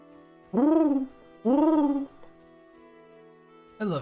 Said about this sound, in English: I love the sound of an owl.